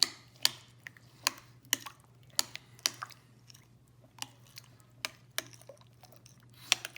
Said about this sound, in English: I'm going to give all that a stir